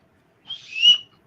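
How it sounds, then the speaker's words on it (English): A single brief, shrill whistle is blown, rising to a sharp peak and fading after less than a second, loud and close in an otherwise quiet space. "Blow the whistle"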